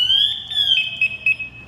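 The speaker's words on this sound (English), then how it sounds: "what you're hearing right there, that is my pass device" A firefighter's SCBA PASS device alarm, a loud piercing electronic tone sliding and warbling at high pitch, sounding continuously and close with no talking.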